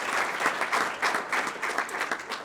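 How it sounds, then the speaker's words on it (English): A round of applause from the audience at a mayors and town managers breakfast forum, with brisk, dense clapping sustained at an even level for a couple of seconds. "give a round of applause"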